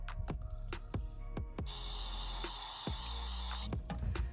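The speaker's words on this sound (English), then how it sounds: "I'm gonna gently spray some of the pleats with brake clean." A sharp hiss of brake cleaner sprayed from an aerosol can onto the pleats of a cut-open oil filter for about two seconds, surrounded by scattered clicks and taps close by.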